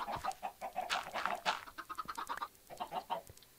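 Chickens cluck in Minecraft, a run of short, dense game-fowl calls repeating close and steady for a few seconds with no talking over them.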